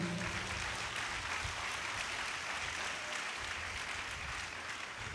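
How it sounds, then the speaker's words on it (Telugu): A church congregation claps loudly and continuously, a dense wash of applause that holds steady throughout with no break. "అందరూ సంతోషంగా చప్పట్లు కొట్టండి గట్టిగా."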